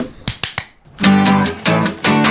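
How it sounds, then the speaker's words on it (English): Three quick, sharp hand claps ring out close and alone, then a bright musical intro takes over and plays steadily to the end. "Someone clap us in."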